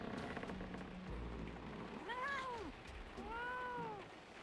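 Two distinct cat meows from Emily the Strange's kitties in the video game, each a rising-then-falling cry lasting about half a second, heard over a soft rain-like background.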